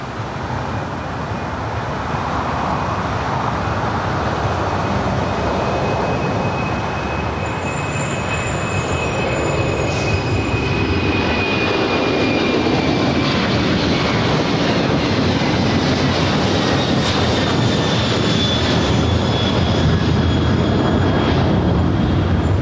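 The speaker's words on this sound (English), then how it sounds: "FedEx flight 1234 rolling down to 5 left. It's a 767-300 freighter." A FedEx Boeing 767-300 freighter rolls for takeoff on runway 5 left at LAX, a loud, sustained roar of jet engines building steadily with a rising whine.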